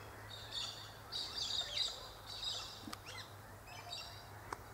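A red wattlebird calls from an Acacia saligna tree, giving several harsh, scratchy bursts at moderate distance, spaced a second or so apart, over a low steady background hum.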